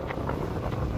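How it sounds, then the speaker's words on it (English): Strong wind buffets the microphone, a continuous low rumbling roar with gusty fluctuations over a brief moment. "It's very windy out here"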